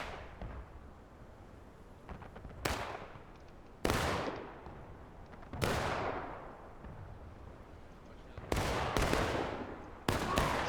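Pistol gunshots in a Civil War battle video game, a series of sharp loud cracks spaced a second or two apart, several closer together near the end, each ringing out over a quiet background.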